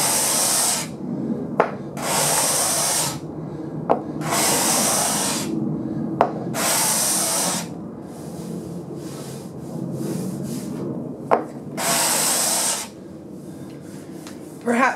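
A hand scraper with a turned burr shaves across wood in repeated strokes, each a close, raspy hiss of a second or two, separated by brief gaps and light taps as the tool is reset.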